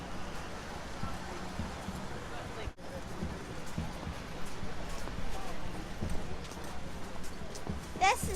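Horse hooves clip-clop steadily on a New Orleans street, close by, amid faint street ambience.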